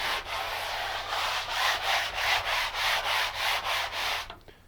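A sanding block rubs back and forth over a gessoed canvas surface in an art studio, a close, rhythmic scratchy swish with about a dozen even strokes before it stops.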